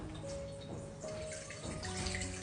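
Water is poured into a large Mason Cash mixing bowl for bread dough, a steady close splashing and trickling stream that runs continuously and alone.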